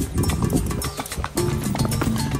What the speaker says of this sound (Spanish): Su caballo es al pasito que viene